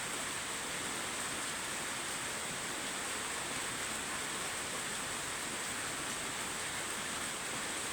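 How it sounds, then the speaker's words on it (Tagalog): Steady, dense hiss of rain, unbroken and even throughout, loud and close with no voices. "Umuulan pa."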